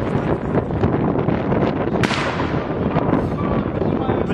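Gunfire aimed at protesters during street unrest in Ukraine: one sharp, loud shot cracks out midway through a dense, constant roar of crowd noise and voices.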